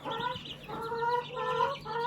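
Several hens cluck and murmur close by in short, repeated bursts, a soft steady chatter with no talking.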